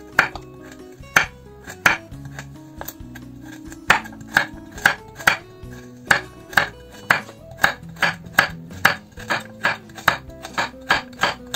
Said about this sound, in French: je vais enfin hacher mes oignons verts